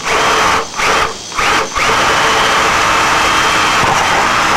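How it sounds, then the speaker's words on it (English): A power drill with a number 30 bit drills holes in rudder and aileron parts, loud and steady at close range, briefly easing off a few times before holding one continuous whine. "Now we're going to drill them number 30."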